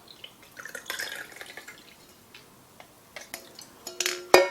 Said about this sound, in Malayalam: അപ്പോൾ നമ്മൾ മാറ്റി വെച്ചിരുന്ന ആ ഒരു വെള്ളം നമുക്ക് ഇതുപോലെ ഗ്ലാസ്സിലേക്ക് അരിച്ചെടുക്കാം.